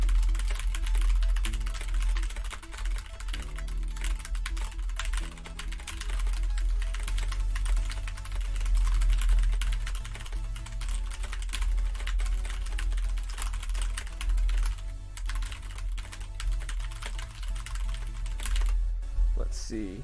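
Rapid computer keyboard typing clicks away steadily through a live session with fans, sitting under a constant bed of background music and low hum.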